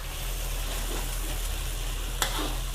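Marinated pork stir-fries in a wok over medium heat, giving a steady close sizzle with occasional scrapes of a spatula and no talk.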